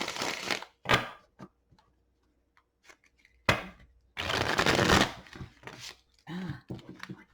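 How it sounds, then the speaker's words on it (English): Tarot cards being shuffled by hand, with several bursts of riffling and sliding card sounds separated by short pauses and soft taps, close and fairly loud. "And do 3 shuffles, lay 3 cards face down."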